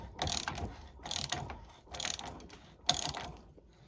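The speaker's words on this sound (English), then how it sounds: "Hold this side still and just ratchet that." A ratchet winds a bushing removal tool in short bursts, four rapid clicking runs with brief pauses between them, close and moderately loud.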